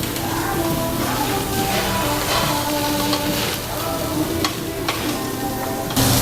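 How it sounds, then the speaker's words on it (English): Pork sizzling on a Korean BBQ grill at a restaurant, a continuous loud crackling sizzle with occasional scraping and clattering in a busy room, voices murmuring faintly underneath. "It is sizzling."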